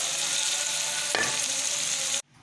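Cabbage, potato and carrot bhujia sizzles steadily in a pan as chopped coriander is stirred in, with a brief scrape of the spoon midway before the sound suddenly stops.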